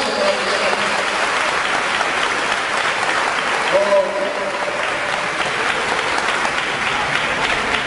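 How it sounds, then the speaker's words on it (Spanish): Audience at an ecumenical pastor-and-priest church event applauding loudly and continuously, a dense sustained clapping with some voices mixed in underneath. "un fuerte aplauso."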